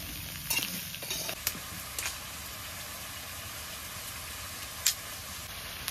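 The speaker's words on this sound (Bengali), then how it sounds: "একদম সবগুলো একসঙ্গে কষানো হয়ে যাবে।" Onion and chilli stir-fried in hot fish oil for a wedding-style chhanchra, a faint continuous sizzle broken by a few sharp spatula clicks and scrapes, with no voices.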